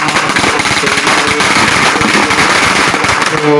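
A long string of firecrackers bursts continuously at a Thai worship ceremony for a nine-headed Naga king, a loud, dense, rapid crackling that fills the whole stretch without pause.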